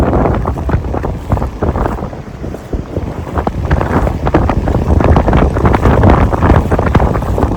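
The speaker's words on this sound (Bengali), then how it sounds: "বিশাল হাওয়া" Strong sea wind on the beach at Tajpur roars steadily across the microphone, with a continuous rumbling gust noise and no voices.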